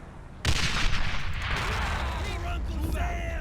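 Heavy gunfire and explosions from a World War II battle in the video game Men of War: Assault Squad, set during an invasion of the Japanese mainland, erupt suddenly into a dense, continuous barrage with a voice talking over it.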